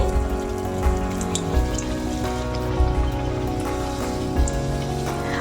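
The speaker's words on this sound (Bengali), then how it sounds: "এখানে এখন লুচিটা ভেজে নিচ্ছি" Luchi puffed bread frying in hot oil for a Mahalaya morning meal, giving a steady, close crackling sizzle with scattered pops and drips throughout, no voices.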